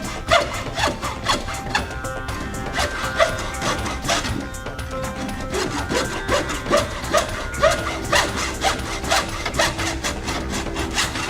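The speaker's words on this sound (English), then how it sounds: "The round file works really well in this area." A round file rasps back and forth against wood in quick, repeated strokes, close and fairly loud, heard alone without talking.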